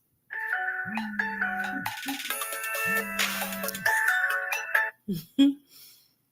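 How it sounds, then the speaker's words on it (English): A phone plays a melodic ringtone loudly for about five seconds, its repeating tune cutting off abruptly and followed by a few brief scattered sounds. "Answer your phone."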